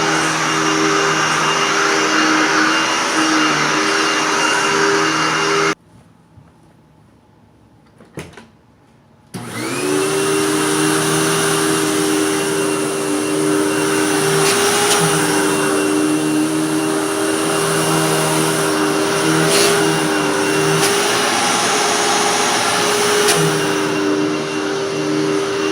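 A loud, steady Hoover Tempo Widepath upright vacuum cleaner motor drone with a constant whine, cutting out briefly for a few seconds before starting up again and running on.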